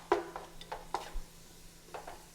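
A spoon stirs shrimp creole with bay leaves in a pot, giving a few soft, scattered scraping and clinking strokes over a faint steady hum, quiet and close.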